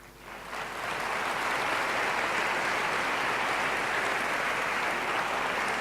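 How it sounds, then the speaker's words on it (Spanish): A conference audience applauds after an education talk, the clapping swelling in over the first second and then holding as an even, dense wash until the end. "Agradecemos con este aplauso a la doctora Melina Furman por su conferencia Educar Mentes Curiosas"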